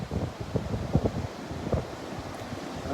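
Wind gusting across a beach at Delnor-Wiggins on a cold winter morning, a steady rushing roar with low buffeting bursts against the microphone, no voices.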